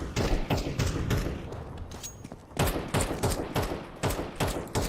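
Rapid bursts of gunfire and thudding blasts from grenades being thrown and exploding in the game Counter Strike 2, a dense run of sharp cracks and booms with brief lulls, loud and close throughout.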